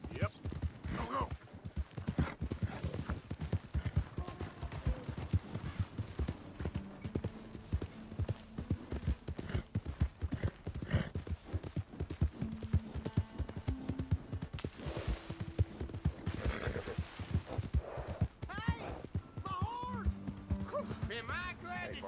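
Steady clip-clop of horse hooves trotting along in Red Dead Redemption 2, continuous and fairly close, with faint ambient game sounds behind.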